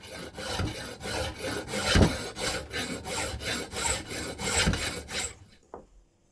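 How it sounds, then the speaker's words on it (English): A hand file works a thick piece of scrap iron for a homemade mortise chisel, sounding as a close, steady series of rasping strokes, about two per second, before it stops and a single faint clink follows. "I spent at least 3 hours just filing this piece of iron to get a nice finish"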